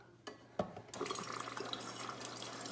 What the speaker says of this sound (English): you will hear the air just sputtering inside the line